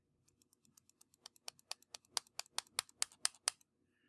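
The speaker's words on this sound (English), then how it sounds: "Can you hear me right-clicking?" A two-button computer mouse being right-clicked over and over in quick succession, about two dozen sharp close clicks growing louder toward the end, with no talk.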